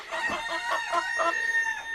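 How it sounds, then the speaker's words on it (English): A hen clucks from a raised nest box inside a backyard chicken pen, a steady run of close, fairly loud clucks with no talking. "There's a little hen in there."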